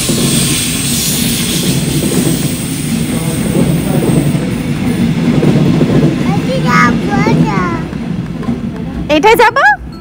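A train arriving, a loud, broad rumble that builds toward the middle and holds, with a high horn-like tone near the end, while a person talks over it.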